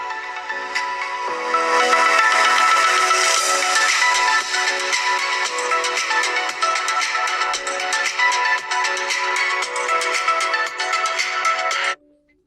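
A phone ringtone plays loudly from the speaker of an OPPO A6 Pro 5G, a bright repeating melodic pattern that runs steadily for about twelve seconds before cutting off abruptly.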